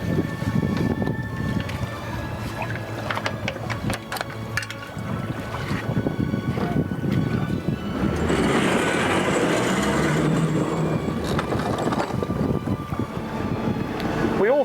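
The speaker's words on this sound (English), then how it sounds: "we put the boat on the water for a test" A Haines boat powered by a Suzuki outboard runs on open water during a test, its steady motor drone mixed with rushing water and wind buffeting the microphone, continuous and fairly loud throughout.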